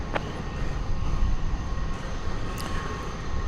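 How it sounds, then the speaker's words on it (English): A Boeing 777-200 airliner taking off at night from Dallas Fort Worth airport, a steady distant engine roar rumbling low and continuous without any clear rise or fall. "American 1768 off to Phoenix, Arizona is a 777, our first 777 of the night"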